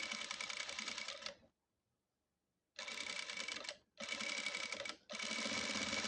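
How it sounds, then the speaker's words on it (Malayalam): A sewing machine stitching churidhar lining runs in steady, rapid mechanical bursts close by, stops for over a second, then starts again in two more long runs with a brief pause between. "കാണാൻ പറ്റുന്നുണ്ടായിരുന്നോ സൂചി ഓടുന്ന പോലെ?"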